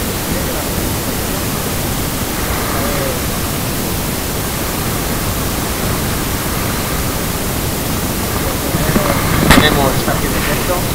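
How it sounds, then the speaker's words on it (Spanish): Cierzo wind blowing by the Ebro river while fishing for catfish, a loud, continuous broadband rush with no letup and a brief sharper clatter near the end. "Ya veis el cierzo que se ha levantado."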